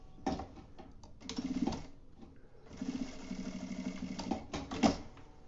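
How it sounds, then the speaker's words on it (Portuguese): A sewing machine runs in several short bursts, stitching a safety seam on fabric for a vaccination-booklet cover, with a rapid mechanical whirr and clicks between pauses; close and moderately loud. "E aí eu vou passar uma costurinha aqui de segurança."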